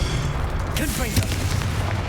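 A Confringo fire-blast spell in Hogwarts Legacy: a deep, rumbling booming explosion sustained under a dense layer of game noise, with a brief swooping whoosh midway through.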